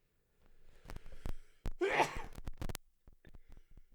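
A single sneeze bursts out near the middle, short and fairly faint, set among light clicks and breaths in a quiet room with no talking.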